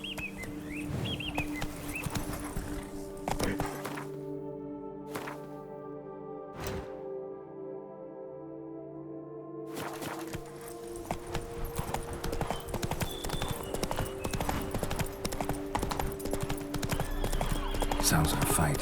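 A horse galloping in The Witcher 3, rapid rhythmic hoofbeats running through most of the stretch with a brief lull in the middle, under in-game music tones and a voice speaking.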